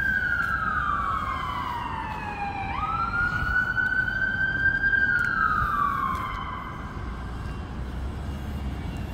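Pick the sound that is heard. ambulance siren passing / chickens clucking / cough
ambulance siren passing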